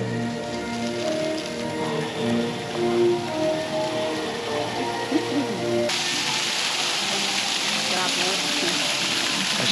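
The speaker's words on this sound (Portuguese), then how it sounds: "Uma cachoeira artificial." Artificial waterfall at a Flintstones- and dinosaur-themed tourist attraction in Gramado, splashing as a steady, broadband rush of falling water that fills the whole clip, with people talking over it and a brief louder burst partway through.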